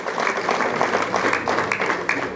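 Wedding guests clap together in a sustained burst of applause, a bright, dense patter of many hands close by, steady throughout with a few sharper claps standing out.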